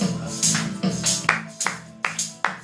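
Congregation in a church clapping along to a worship song, with steady rhythmic hand claps every half second or so over music, fairly close and clear.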